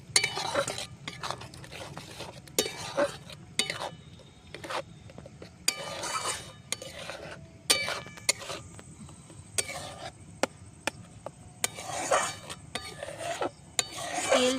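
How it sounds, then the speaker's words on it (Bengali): Achari paneer with mixed mango pickle stirred in a pan, repeated rasping scrapes of a spatula against metal in uneven strokes over a low sizzle, close and moderately loud. "এবার একটু ভালো করে নাড়াচাড়া করবো"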